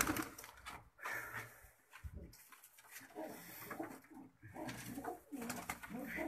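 Pigeons coo on a rooftop loft, soft throaty rolling coos repeating in overlapping bursts at close range, with no talk over them.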